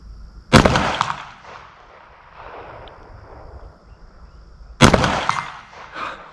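Two loud, sharp pistol shots from a Walther PDP SD Pro Compact fired one-handed at an outdoor range, several seconds apart, each a close, cracking report with a decaying echo.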